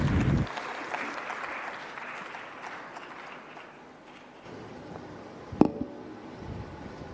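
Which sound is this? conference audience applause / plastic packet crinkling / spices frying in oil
conference audience applause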